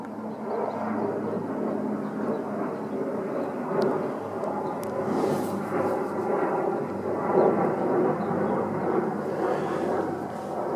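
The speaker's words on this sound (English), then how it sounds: "There's very obviously an aeroplane overhead." A low, steady engine drone rumbles continuously overhead, a propeller or jet aeroplane passing at moderate distance over the Manawatu River walk in Palmerston North, New Zealand, with broad outdoor background noise.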